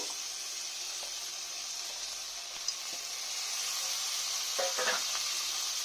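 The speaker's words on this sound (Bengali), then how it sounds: "একটু ভালো করে আমি নেড়ে নেব।" Masoor dal and greens hiss and sizzle steadily in a hot pan, with a few scraping stirs of a spoon toward the end and no voices.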